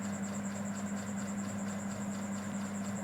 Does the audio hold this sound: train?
yes